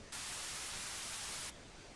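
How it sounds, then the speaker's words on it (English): A burst of harsh white noise hisses loudly for about a second and a half, starting and stopping abruptly over a quieter noise floor. "white noise,"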